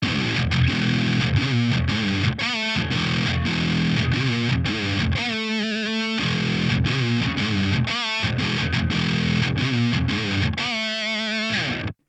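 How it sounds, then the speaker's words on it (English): Heavily distorted Aria Pro Jet baritone guitar through a high-gain amp, chugging palm-muted riffs broken by short pauses and bursts of ringing chords, loud and up close. "Now let's take a listen to what it sounds like with some high gain."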